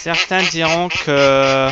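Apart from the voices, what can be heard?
No everyday noises stand out.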